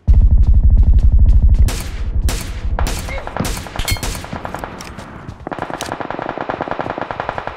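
Video game gunfire: loud, rapid automatic bursts fire up close, then sharper single shots and shorter volleys crackle in layers, with a dense rattling run toward the end.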